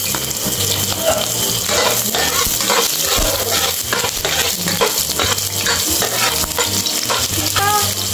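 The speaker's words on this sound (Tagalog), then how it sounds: "ito magigisa na ako ng bawang" Garlic sautéing in hot oil for spicy chicken adobo: a loud, steady crackling sizzle with scraping stirs of a spoon against the pan, close and continuous with no talk.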